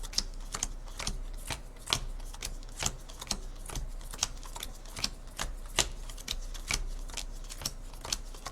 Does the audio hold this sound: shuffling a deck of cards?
yes